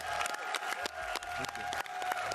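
Audience applause at the Xbox X019 gaming showcase, a dense wash of clapping from a large crowd with some cheering, loud and steady throughout the short stretch.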